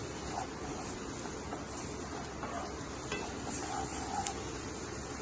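Golden-brown fried onions with red chili powder and turmeric are stirred in a pan, a faint soft sizzle with light scraping, quiet and steady with no talk.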